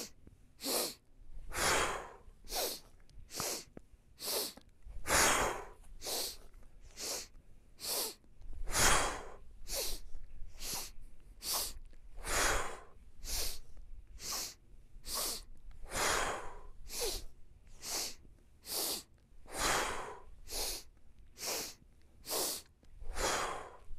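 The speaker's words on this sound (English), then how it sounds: "So we're gonna go sniff, sniff, sniff, exhale." Rhythmic sniffing inhales and sharp exhales repeat steadily in a pre-climb breathing warm-up, a long regular series of close breaths with no talk.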